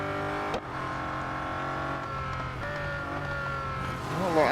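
Race cars in the Real Racing 3 mobile game hold a steady, near engine drone while overtaking slower cars, with a sharp thump early on and a rising whine at the end.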